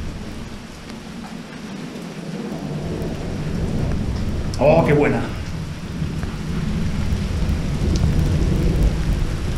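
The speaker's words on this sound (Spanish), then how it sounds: "Fijaros que la tormenta sigue en marcha, ¿eh?" Thunderstorm during a unicycle ride on the Ruta del Ferro, with steady rain and rolling thunder throughout and a louder swell midway, while a man exclaims briefly over it.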